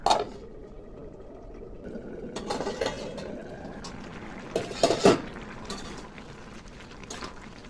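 A metal lid clanks onto a pot of bottle gourd greens and prawn curry, with a sharp clatter at the start and another cluster of rattling knocks midway, then light clinks.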